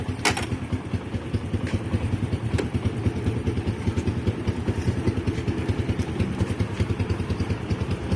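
A motorcycle fitted with an Aero Metal Guard runs steadily through a test ride around a parking area, its engine a close, continuous rapid chugging with slight clatter and no voices over it.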